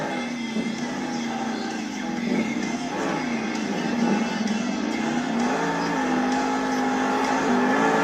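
Avenger monster truck spinning a donut at a Monster Jam stadium event in Indianapolis, its engine holding a loud, steady roar with wavering pitch as the wheels whirl, with crowd noise and a commentator's voice underneath.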